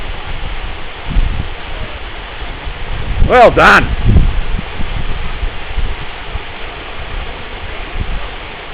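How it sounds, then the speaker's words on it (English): Water falls steadily at 60 Foot Falls near Mittagong in the Southern Highlands, a constant close rushing hiss throughout, with people talking briefly and a short sharp sound in the middle. "Swim over to the waterfall."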